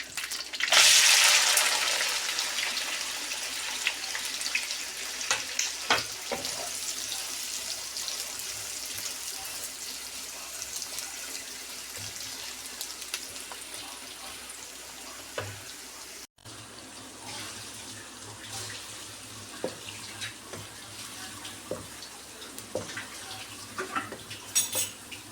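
Onions dropped into hot oil in a pan, made for a meat dish, hiss with a loud burst of sizzle at first, then a steady crackling fry continues with faint utensil scrapes and no talking.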